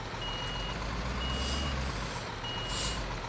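A construction truck in Bau Simulator 2015 backs up with its reversing alarm sounding, evenly spaced high beeps over a loud, steady diesel engine rumble, with no talk.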